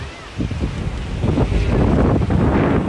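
Gusty coastal wind at Banking Hills, Ilocos Norte rumbles against the microphone, swelling louder after the first half second and staying rough and close throughout.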